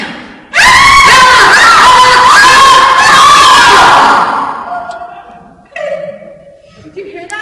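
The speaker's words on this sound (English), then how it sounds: "That high-pitched scream? Followed by an exasperated screech?" Shrill, high-pitched screaming bursts out loud and sustained in a campsite comedy skit, with crowd-like shouting layered in, then fades into a shorter, strained screech and scattered voices.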